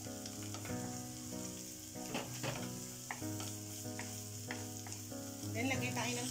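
Chopped onion fries and is stirred in a pan while alamang bagoong is being cooked, with a steady sizzle and repeated scraping stirs under continuous tonal music.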